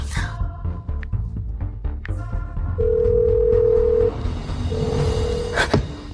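Close-up phone dialing: a series of soft button taps, then a steady electronic tone sounds twice, with a short gap between.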